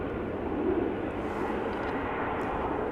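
Embraer airliner taxiing at Amsterdam Schiphol Airport, a steady, moderately faint engine hum and whine lasting a few seconds with no voices.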